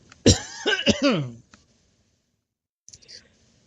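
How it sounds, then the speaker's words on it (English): A person nearby gives a short burst of harsh, rasping coughs, followed by quiet with a couple of faint clicks. "I can't. I'm coughing"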